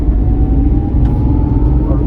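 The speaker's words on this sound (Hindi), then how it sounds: "और आप नॉइज़ सुन रहे होंगे इंजन की" A small Renault car engine hums with a steady low rumble while driving through city traffic, heard from inside the cabin with a voice talking over it throughout.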